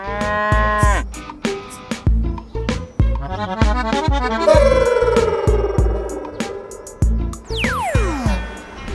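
A cow moos repeatedly up close, several long drawn-out lowing calls over a rural setting with rhythmic thumping, the last call rising and falling in pitch.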